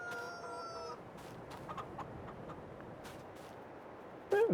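Chickens in a farming video game give faint clucks and a short crow at the start, over a low steady background hum. A brief, louder cluck pops up at the very end.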